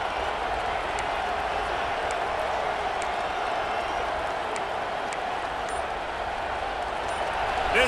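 Stadium crowd roaring in EA Sports College Football 26, a steady, loud wash of noise that is sustained throughout, with faint whistles and shouts on top.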